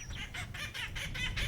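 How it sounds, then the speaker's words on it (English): Acorn woodpeckers in a fire-recovering woodland, giving a rapid series of harsh, repeated cackling calls, fairly faint and distant, with no talk over them. "Acorn woodpeckers were among the most abundant bird species, and definitely produced the noisiest cackles."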